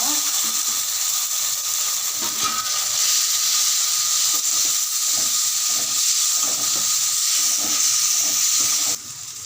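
Chopped tomatoes and onions fry in a pan for a brinjal kadayal, giving a steady, loud sizzling hiss with light scraping and stirring ticks throughout, then the sizzle drops at the end.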